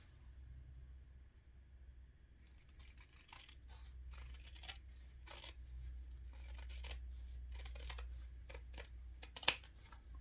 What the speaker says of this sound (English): We're going to trim these seam allowances down to about 1/8 of an inch.